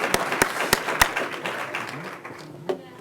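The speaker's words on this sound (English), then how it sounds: "Let's give them another round of applause." A few sharp hand claps from a conference audience at a plenary session, several loud claps in quick succession that thin out into scattered applause and fade.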